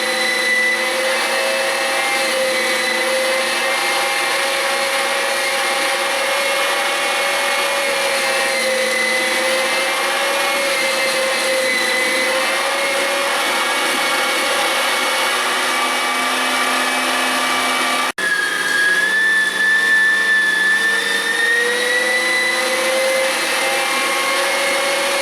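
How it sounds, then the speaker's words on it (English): A steady, loud electric motor drone of a meat grinder grinding wild hog meat runs continuously, its pitch shifting slightly as it works, with no talking. "so we're going to start up the grinder"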